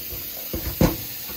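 Tap water running into a kitchen sink to rinse meat: a steady close hiss of flowing water with a couple of brief splashy surges, no voices.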